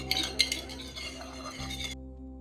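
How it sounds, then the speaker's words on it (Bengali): Dishes being washed by hand, with pots, plates and utensils clinking together in a few sharp knocks and a steady low rattle close by, the sound cutting off abruptly near the end. "এই দেখো তোজো যে বাসন ধুচ্ছে অঙ্ক করার ভয়ে"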